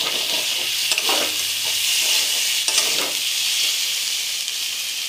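Spices frying with sugar and salt for Bengali aloo dum, a steady close sizzle under a few scraping stirs of a spoon in the pan, with no talking.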